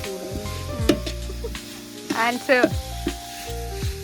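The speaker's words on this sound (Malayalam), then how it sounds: "നമ്മൾ ഇളക്കുവാണ്. തക്കാളിയും പിന്നെ ക്യാരറ്റും പച്ചമുളകും ഒക്കെ ഇട്ടിട്ടുണ്ട്." Tomatoes, carrots and green chillies sizzle and fry in a pan while being stirred, with clattering utensil scrapes and knocks over the steady hiss and a person speaking briefly.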